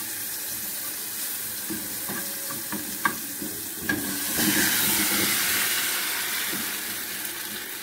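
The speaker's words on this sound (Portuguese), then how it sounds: "O sal e agora eu vou colocar o pequi." Pequi fruit frying in a pan with salt, a steady soft sizzle running throughout with a few clicks and clinks of utensils, growing slightly louder midway, no talking.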